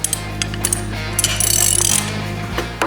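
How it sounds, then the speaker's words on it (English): A carrier bolt being tightened down on a slip shear during a stock replacement, with a run of metallic ratcheting clicks and clanks over a steady low mechanical hum. "Snug your carrier bolt down until it makes contact."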